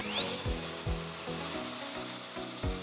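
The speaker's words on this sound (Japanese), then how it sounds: "ブロワーで飛ばすのが安定ですね" A powerful handheld blower drives water off a car's grille, a loud, continuous rushing whine with a high motor tone that climbs and then holds steady, alongside a faint repeating rhythmic pulse underneath.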